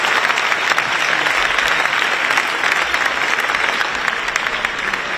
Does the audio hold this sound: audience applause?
yes